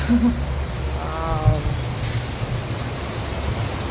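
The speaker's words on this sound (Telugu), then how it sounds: "వర్షం, కుంభ వర్షం అనుకోండి." Heavy downpour pours in a dense, continuous roar of rain, with a short vocal sound early on.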